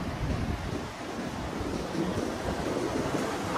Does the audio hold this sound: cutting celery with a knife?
no